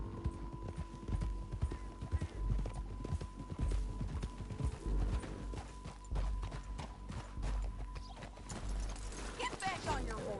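Horse hooves clip-clop in a steady walking rhythm in Red Dead Redemption 2, close and clear over low ambient game sound, with a voice talking over the hoofbeats.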